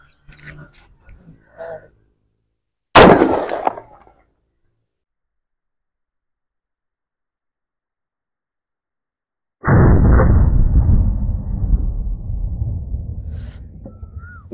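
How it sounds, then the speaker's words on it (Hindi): A gun fired at a large iron padlock: one sharp, loud shot with a short decaying tail stands alone after faint background sounds. Much later a loud, rough, sustained noise follows and slowly fades. "हम लोग इसको फायर करके देखते हैं कि इसकी क्या हालत होती है।"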